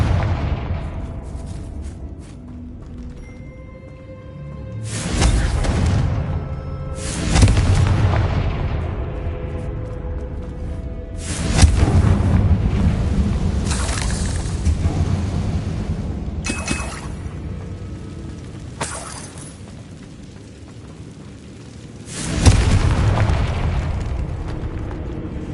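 Confringo fire-spell blasts in Hogwarts Legacy, played on PS5, go off inside a decayed catacomb. Several heavy booming explosions land at uneven intervals, each followed by a rumbling decay over a steady low ambience.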